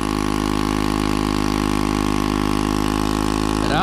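A scooter engine with no exhaust runs loud and close, holding a steady, unbroken drone with a slight shift in tone near the end.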